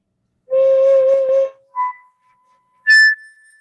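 Solo flute overblown through harmonics toward a high A in a masterclass: a breathy sustained low tone, a brief mid blip, then a short bright high note, each separated by silence.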